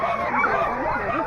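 Four-month-old pug puppy yipping and whimpering in a series of short, high, close calls, with faint voices in the background.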